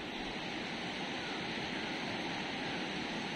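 Floodwater rushes around the Panchvaktra temple in Mandi, Himachal Pradesh, a dense, steady roar of flowing water that holds at an even level throughout with no voices.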